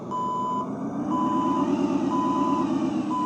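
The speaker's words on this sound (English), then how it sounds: "the reverse beeping comes on" Steady reversing beeps from a Volvo L120 wheel loader repeat at an even pace, about one per second, over the loud, constant rumble of the nearby idling machine.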